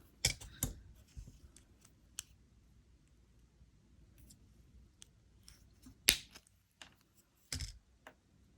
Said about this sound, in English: Then I'm going to cut off the excess.